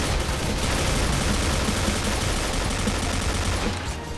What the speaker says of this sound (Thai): ยิงกันโหดขนาดนี้แล้วผมจะเล่นยังไงล่ะครับ